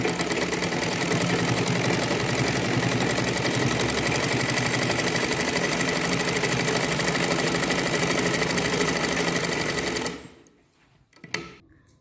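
A sewing machine stitches a collar blouse in a long, steady, loud rapid hum of needle strokes, running close and unbroken for about ten seconds before stopping, followed by a couple of faint handling knocks.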